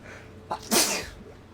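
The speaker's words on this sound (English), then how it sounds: "Oh, I'm gonna sneeze." One loud, close human sneeze bursts out after a short intake of breath and trails off quickly, with a quiet room behind it.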